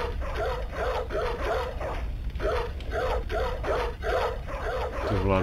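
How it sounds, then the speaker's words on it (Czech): A dog barks and yips repeatedly in the Bloodborne demake video game, sharp bursts at a steady rhythm under continuous game noise, with someone talking over it. "To je tady ten pejsek."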